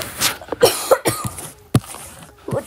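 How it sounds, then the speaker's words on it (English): A few harsh coughs, close and loud, come in short separate bursts with brief gaps between them, and no talking is heard in the moment. "What just coughed at me?"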